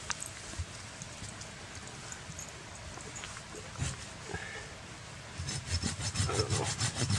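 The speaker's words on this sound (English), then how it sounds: "It's gonna be a lot of sawing by hand." A hand saw cuts through wood outdoors by a mountain lake in rasping back-and-forth strokes. The strokes are soft at first and grow louder and quicker near the end.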